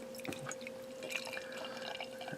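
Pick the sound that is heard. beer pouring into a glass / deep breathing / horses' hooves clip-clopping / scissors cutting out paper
beer pouring into a glass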